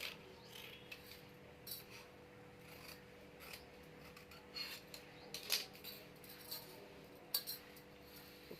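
Scissors snipping blouse fabric during tailoring, a faint, quiet series of short crisp cuts and rustles scattered across the stretch with no talking.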